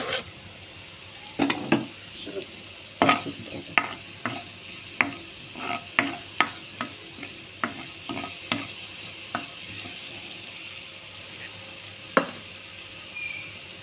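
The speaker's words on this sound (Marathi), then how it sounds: "आतां तेल गरम जालें तशें मिरसांग आहल्यो न्हू त्यो घाता" Green chillies crackle in hot oil for a Goan prawn and cuttlefish dish, a soft steady sizzle broken by frequent sharp spatula taps and scrapes against the pan at an uneven pace.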